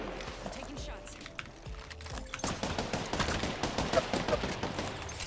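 Apex Legends gunfire crackles at a moderate distance, steady bursts of shots under quiet voices and faint mechanical clicks, the shots growing denser in the second half.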